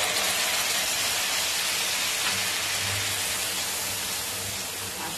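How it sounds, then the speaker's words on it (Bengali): Fenugreek seeds fry in hot oil for a restaurant-style egg curry, giving a loud, continuous close sizzle and hiss that holds steady throughout and eases only slightly at the end, with no talk. "মেথিটা দেখুন ভাজা হচ্ছে"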